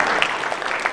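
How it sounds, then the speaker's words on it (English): Brief burst of audience applause at an evening public safety meeting for a Chicago aldermanic candidate, a dense patter of clapping lasting about a second. "Give yourselves a round of applause for coming out on a"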